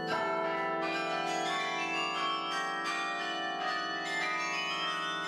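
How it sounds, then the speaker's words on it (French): A 61-bell church carillon in Hondschoote, France, rings in a dense, continuous peal, rich and resonant, with overlapping strikes sustained throughout. "Avec ses 61 cloches, ce carillon fait partie des plus importants carillons de France."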